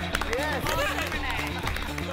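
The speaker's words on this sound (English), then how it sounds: "The gantry starts cheering." On a MasterChef Australia set, the crowd on the gantry cheers and claps. Excited voices and clapping come in a lively, mid-level burst of hubbub and whoops.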